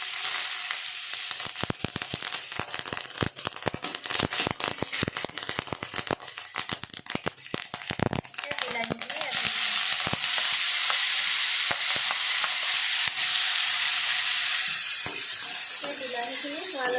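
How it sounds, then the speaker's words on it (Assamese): Crushed mustard added to a pan of frying ginger and garlic, a loud, crackling sizzle with rapid spattering pops and stirring scrapes, settling into a steady hiss, close up. "আদা নহৰু হ'লত এতিয়া খুন্দি লোৱা সৰিয়হটো দি দিছোঁ।"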